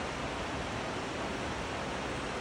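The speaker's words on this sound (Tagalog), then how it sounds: "Ang lakas ng tubig" Strong rushing water, like a torrent or waterfall on a foggy day after snowmelt, roars as a steady, loud, broadband wash that holds even and unbroken throughout, with no voices.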